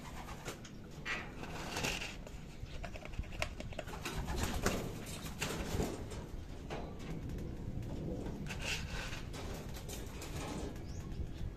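An exhausted racing pigeon comes back to its loft after a 372 km derby race from Pilar, Sorsogon, with wing flaps and soft cooing over a steady bed of nearby bird noise. No one speaks.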